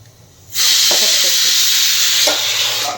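Tomato gojju hits a hot pan and bursts into a loud, steady sizzle that hisses continuously, with faint scraping clinks of a spoon stirring underneath, close up and without talk.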